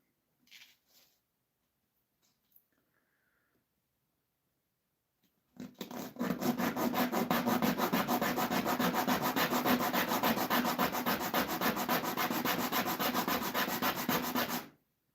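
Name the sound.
hand sanding a redwood board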